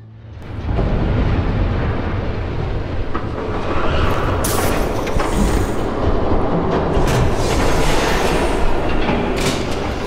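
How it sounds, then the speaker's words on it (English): A train approaches in the video game Batman: The Telltale Series. A loud rumbling roar swells in quickly and holds steady, with rail clatter and bright metallic screeches on top. "There's a train coming."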